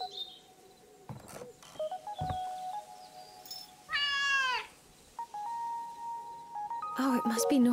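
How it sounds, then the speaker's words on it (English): A cat meows once, a short clear call in the video game Dordogne, set among quiet ambient tones, chirps and a few clicks and knocks from the game. "Oh, it must be Nora's cat"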